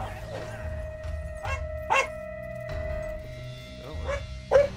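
A dog in the Fable video game gives several short, sharp barks and yips at irregular intervals, heard over a sustained game tone and low background hum.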